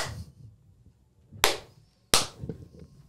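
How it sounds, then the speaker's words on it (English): A few people clap their hands at slightly different times, producing a handful of sharp, separate claps close to the microphone with short quiet gaps between them. "Hey, everybody clap because we didn't do that."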